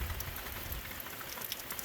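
Rain from a small passing thunderstorm falls steadily on surfaces, a dense, even patter heard up close with no talk or thunder.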